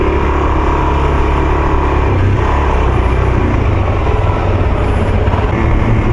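Suzuki DRZ400SM supermoto engine running steadily while being ridden, a loud continuous drone with wind roar and no clear revving peaks.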